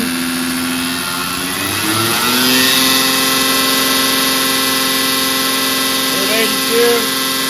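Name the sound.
diesel engine at high idle after injection pump rebuild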